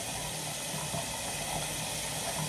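Hot water runs from a tap over a green toothbrush, a steady, close hiss of flowing water with no pauses.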